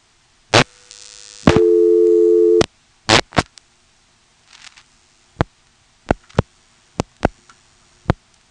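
Line signals on a 1977 step-by-step telephone exchange with directors in Elizabeth City, North Carolina, during a long-distance call: a short buzz and a steady tone, then sharp dial-pulse clicks spaced out in quiet, close and clear.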